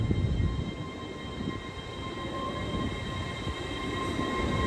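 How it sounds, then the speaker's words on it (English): A TransPennine Express train, a class 802 unit bound for Liverpool Lime Street, departs Darlington station with a steady, loud rumble and a drawn-out whine that holds throughout and swells slightly near the end, with no voices. "Departing now was the TransPennine Express service off to Liverpool Lime Street."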